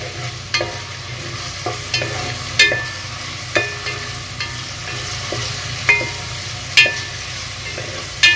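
Onion and fresh garlic sautéing in a pan for pork hock paksiw: a constant gentle sizzle punctuated by sharp clinks and scrapes of a utensil stirring at irregular intervals, close by with no talking.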